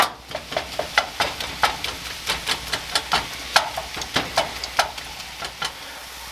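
Ground beef browns in a pan for Super Bowl appetizers while a utensil chops and scrapes it in quick, regular knocks over a soft sizzle, close and alone.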